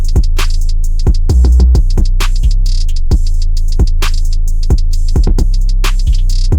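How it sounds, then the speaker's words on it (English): Loud, punchy drums of an FL Studio beat pound in a steady pattern of hard kicks and snappy hits over a constant deep sub-bass rumble, with quick fills and rolls in between and no talking. "And all together, the drums sound like this."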